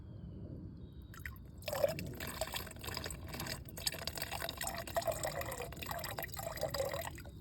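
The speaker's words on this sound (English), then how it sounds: "Now the water's running off in a little stream, and I can put my cup under there and collect that and pour it into my water bottle" Water from a small trailside stream trickles into a cup, a faint, continuous splashing patter with light drips throughout, no voices.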